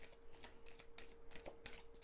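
Repeated riffling of a card deck being shuffled, a quick series of papery bursts close to the microphone with no talking.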